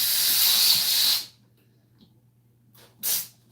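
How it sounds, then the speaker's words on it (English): A cologne aerosol can sprays in one close, steady hiss of just over a second, then stops. After a short quiet gap a second brief spray follows. "they just spray it with some cologne"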